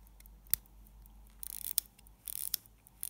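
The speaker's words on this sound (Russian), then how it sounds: "Пробуем перевести стрелки." A 1950 Soviet ZIM 15-jewel wristwatch has its hands set, making faint, close, dry clicks and brief scratchy ratcheting bursts in near silence.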